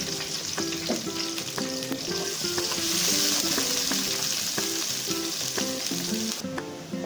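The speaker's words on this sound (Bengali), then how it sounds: "আমাদের পেঁয়াজটা ভাজা হয়ে গেছে" Onions fry in ghee butter in a pot with a steady, bright sizzle and scattered crackles that hold constant for about seven seconds, close and fairly loud with no talking.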